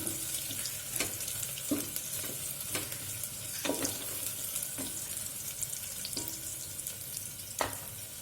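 Onions frying in a pan with ginger, garlic and green chillies for home-style daal, a steady crackling sizzle punctuated by periodic scraping stirs of a spoon against the pan, close and alone with no voices.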